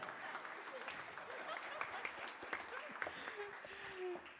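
Steady applause from a large audience at a district State of the District address, dense clapping sustained throughout with some scattered voices and a few cheers mixed in.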